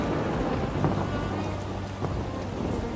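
Heavy rain and rumbling thunder in a Hindi cartoon story, a dense continuous downpour with low thunder rolls and a couple of sharper cracks, loud and close with no voices.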